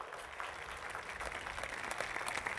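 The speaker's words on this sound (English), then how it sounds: "Let's give them a round of applause." Graduation crowd applauding the Junior ROTC program at Savannah Arts Academy, a steady, fairly distant wash of many hands clapping that holds evenly for a few seconds without a clear start or end.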